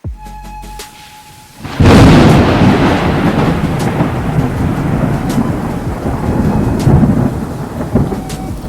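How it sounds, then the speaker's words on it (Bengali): After a brief quiet start, a loud rolling rumble of thunder breaks and sustains, blending into heavy rain that continues throughout. "এক তো বাজ পড়ার আওয়াজ"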